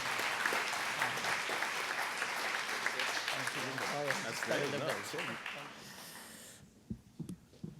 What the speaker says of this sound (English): Can you please have a applause of welcome to Mr. Yannick Beaudoin?